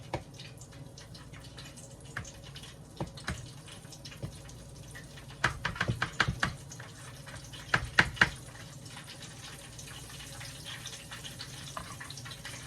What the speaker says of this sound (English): So this is just how I'm frying them in the grapeseed oil.